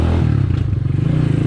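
A Skygo Earl 150 motorcycle with a CG 150 engine and an upgraded 28mm carburetor runs at light throttle during a fuel economy test, giving a close, steady, loud low thumping drone with a rhythmic pulse.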